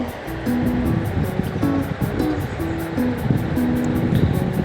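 Taro and spices stir-fry in oil in a pan, giving a constant hissing sizzle that runs steadily the whole time, with faint tonal sounds layered underneath.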